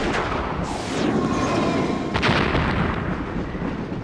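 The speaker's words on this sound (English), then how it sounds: "Shoot it with your new convenient gun, and it goes flying with some great sound effects" A gunshot and creature impact effects from a PSX FMV horror game set in a mystery hospital, with a loud blast near the start and a second sharp burst about two seconds in, followed by a rumbling, noisy tail.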